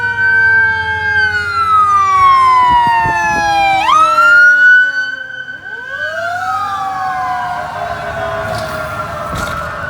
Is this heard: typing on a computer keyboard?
no